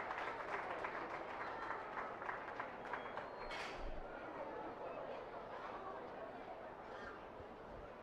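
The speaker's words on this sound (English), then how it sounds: "Let's give this young lady a nice round of applause for her hog that wins the division." An audience at a 4-H and FFA market swine show claps in a broad wash of applause, fading gradually as the crowd settles.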